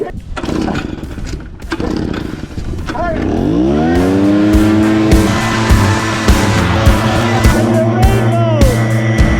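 A cheap small gas engine on a leaf blower boat revs up and drones with a buzzy harmonic whine, holding a steady high pitch with some fluctuation, while people shout and talk excitedly over it outdoors on the water.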